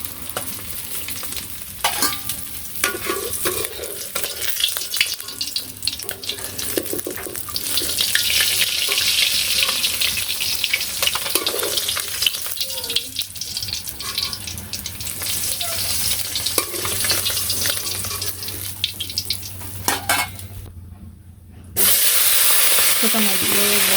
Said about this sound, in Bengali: তাই যে মাছগুলো ভাজা হয়ে গেছে